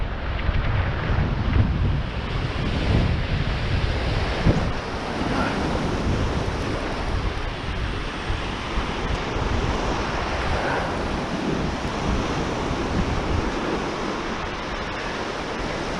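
Ocean waves roll onto a beach as the tide comes in, a continuous loud roar of surf with wind buffeting close to the microphone and no voices.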